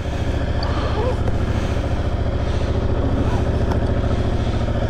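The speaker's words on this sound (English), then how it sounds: "Even with the stock exhaust, sounds good, boy." A 2022 Yamaha MT-07 motorcycle on its stock exhaust rumbles steadily up close with a deep, throbbing engine note. Someone talks over it.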